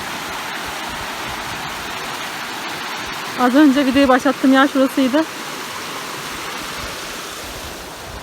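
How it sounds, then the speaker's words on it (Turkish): Steady rush of a stream and waterfall on a nature walk by a creek, continuous and close, with a person speaking briefly over the water partway through. "Bakın su sesine."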